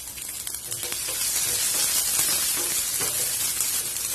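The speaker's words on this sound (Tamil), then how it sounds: "வெங்காயத்தையும் இந்த மாதிரி லேசா வதக்கி விட்டா போதும்" Sliced medium onion with garlic sautéing in a pan for a Tamil mixed-vegetable stir fry, giving a steady, loud sizzle with faint stirring scrapes throughout and no talking.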